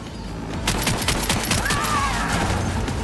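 Sustained bursts of gunfire in Cyberpunk 2077 crackle loudly and continuously, dense rapid shots layered over a rumbling game background for about three seconds.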